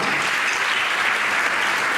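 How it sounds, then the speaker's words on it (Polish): Steady, dense applause fills the whole stretch from a concert audience cheering the band members, loud and continuous with no talk over it. "wielkie brawa dla nich"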